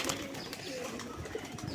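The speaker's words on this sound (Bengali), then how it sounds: "দেখেন যে আমার কবুতর, নর কবুতরটা সেই রকমভাবে সেই লেভেলে ডাকতেছে।" A male desi golla pigeon coos in low, throaty rolling calls close by, against a faint background hiss.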